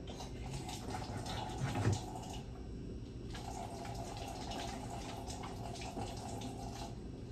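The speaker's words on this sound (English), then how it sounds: "I'm gonna wash my hands because they're gross." Hands are washed under a running tap, giving a steady hiss of flowing water throughout with a brief louder splash near the start.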